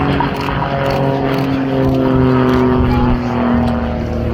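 An RAF Grob Tutor propeller aircraft flies at the Cosford Airshow, giving a loud, steady engine drone that holds evenly throughout.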